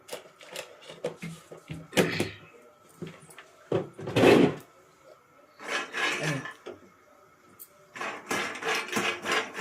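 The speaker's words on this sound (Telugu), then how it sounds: "చట్నీ కోసం కొన్ని పల్లీలు వేసుకున్నాం. చూసి పల్లీలు కొంచెం మంచిగా వేయించుకుందాము" Peanuts rattle and clatter against a pan as they roast for chutney, coming in uneven bursts of scraping and clinking as they are stirred and tossed.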